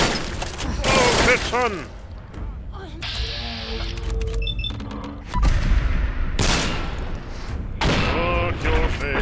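Bursts of automatic gunfire and booming impacts in Fallout 4 combat, loud rapid volleys separated by brief gaps, with someone talking over parts of the fighting.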